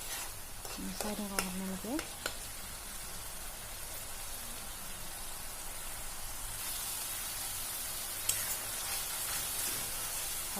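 Spiced masala fries steadily in a pan for a broiler chicken dish, giving a continuous close sizzle with occasional stirring scrapes; a voice talks briefly near the start.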